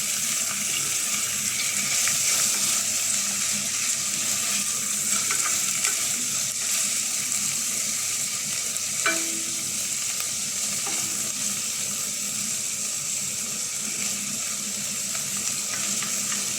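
Shrimp sautéing in a pan for a vegetable dish, a dense steady hiss of frying that runs throughout with occasional faint stirring clicks, close and uninterrupted.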